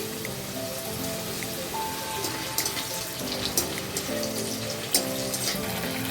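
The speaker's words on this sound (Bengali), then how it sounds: "ফার্স্ট গাজরগুলো ভেজে নেওয়া হবে।" Carrots fry in a wok in a home kitchen, giving a steady dense sizzle with a few sharp clinks and scrapes from the utensil, close by and without speech.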